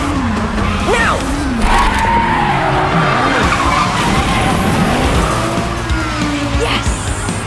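Race car in a video game braking hard, tires squealing and skidding in long wavering whines over a loud engine drone, continuous for several seconds.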